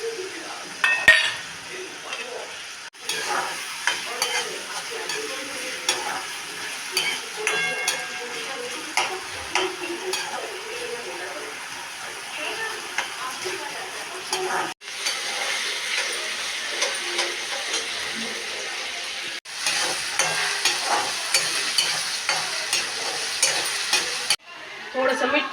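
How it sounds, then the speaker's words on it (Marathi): Potatoes frying in hot oil for sago khichdi, a steady close sizzle with spoon scrapes and stirring clatter against the pan, broken by a few brief pauses. "बटाटा असा छान तळून घ्यायचा तेलात।"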